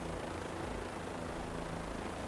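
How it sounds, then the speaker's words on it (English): Helicopter hovering in Microsoft Flight Simulator, a steady, dense rotor and engine drone that stays constant and loud throughout with no talk. "the helicopter will just hover"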